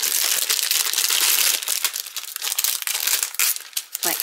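Paper wrapping torn and pulled off a monthly card-making kit while unboxing, close, loud crinkling and crushing with rapid tearing bursts throughout.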